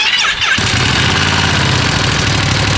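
A Ducati V2 motorcycle engine with stock exhaust cranks briefly, then fires and settles into a loud, steady idle with a throaty exhaust rumble.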